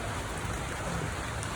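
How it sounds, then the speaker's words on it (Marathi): Steady rain falls outdoors during a walk in the city, a soft, even hiss of drops with no talking over it. "पाऊस काय पडायला लागलाय."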